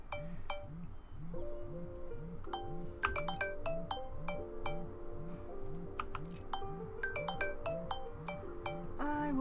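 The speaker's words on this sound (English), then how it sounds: "Oh, and that is the phone" A mobile phone plays a repeating melodic ringtone that rings on and on through the whole stretch, accompanied by scattered keyboard typing clicks and a steady, looping low pulse.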